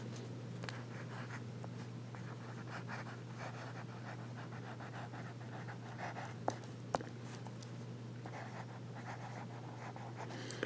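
A broad steel nib fountain pen writing on paper, faint continuous scratchy strokes over a steady low background hum, with a couple of small clicks and no talk.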